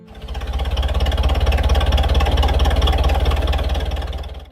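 A John Deere 2010 tractor engine, built between 1961 and 1965, runs at a steady idle, a loud close low throb with even rapid pulsing that fades in and out.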